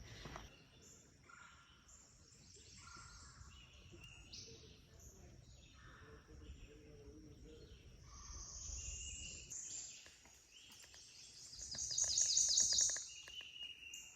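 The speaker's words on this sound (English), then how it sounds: "You hear all those birds?" Several birds chirp and sing in quiet outdoor marshland air, overlapping calls of varied pitch, with a brighter, louder trill near the end; faint insects hum beneath.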